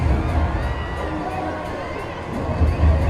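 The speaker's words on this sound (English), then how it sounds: "Giving their fans something to cheer about." Cricket crowd cheering a boundary at a CCL T10 Blast match between Bengal Tigers and Chennai Rhinos, a short burst of distant crowd roar and whoops with commentary voices over it.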